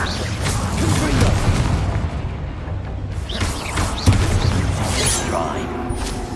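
An explosive Confringo spell from the game Hogwarts Legacy sets off booming blasts and rumbling impacts among clattering combat effects, loud and dense, with a short quieter gap in the middle.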